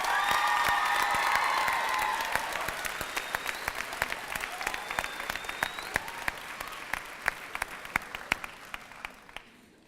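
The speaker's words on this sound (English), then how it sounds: "can we get one more big round of applause for David and Trisselle?" An audience at a high school graduation ceremony applauds and cheers, with loud crowd clapping and whoops at first, thinning into scattered individual claps that fade away toward the end.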